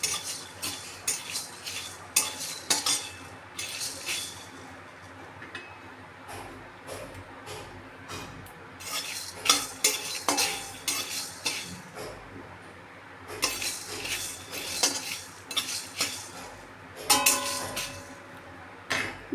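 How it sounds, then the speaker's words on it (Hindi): Whole spices and black pepper dry roasting in a pan, stirred with a metal spoon that clinks and scrapes in repeated bursts, with a faint sizzle underneath and no talking. "अब ये मैं थोड़ी सी भून लूँगी। बहुत ज़्यादा भूनना नहीं है"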